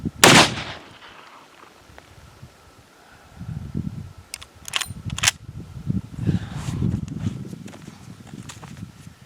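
A rifle fires during hunting shooting practice, one sharp, loud report at the start followed by quieter rustling and handling sounds.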